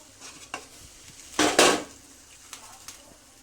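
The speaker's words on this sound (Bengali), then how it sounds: "15 মিনিট হয়ে গেছে, আমি ঢাকনাটা খুলে দেখছি হয়েছে কি না।" A metal lid comes off a momo steamer pot on the stove, a short clatter and scrape of metal on metal, close but fairly faint, amid quiet kitchen sounds.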